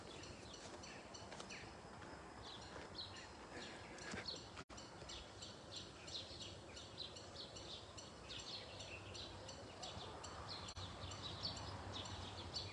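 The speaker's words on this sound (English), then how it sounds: "You hear all the birds?" Small birds chirping outdoors, with a steady chorus of faint tweets repeating from a distance over a soft background hiss and no talk.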